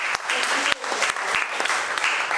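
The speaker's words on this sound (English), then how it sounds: "a round of applause" An audience at a senior community awareness evening applauds steadily, a dense wash of clapping with a few sharper individual claps standing out, close and continuous throughout.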